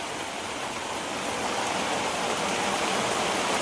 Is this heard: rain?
yes